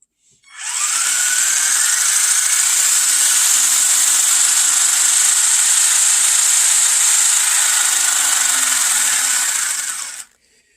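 A HAIBOXING 12811B RC buggy's electric motor runs up in a power test, a steady high-pitched whine that holds at full pitch for about ten seconds and then cuts off, alone with no talk.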